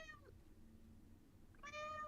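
A cat meows twice, a short harmonic cry at the start and a longer, louder one near the end, close by over a faint low background hum, with no talking.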